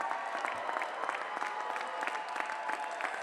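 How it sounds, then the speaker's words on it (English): Sustained applause from a large crowd at a college honors commencement ceremony, many hands clapping in a dense, even wash with sharper individual claps popping out, steady throughout. "And please lead us in a warm round of applause."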